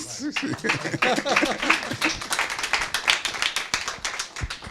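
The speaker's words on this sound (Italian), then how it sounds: "merita un applauso" An audience at an afternoon session of a community gathering in Sardinia claps in a dense burst, with individual sharp claps standing out near the start and voices mixed in.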